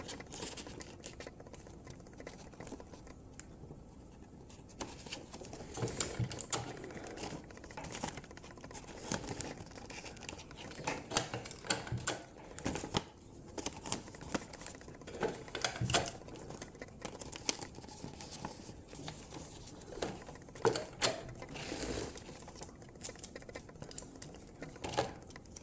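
Adhesive tape is pulled and pressed onto a homemade paper shotgun, giving a run of close crinkling, tearing and tapping bursts scattered irregularly over a quiet background, with no talking.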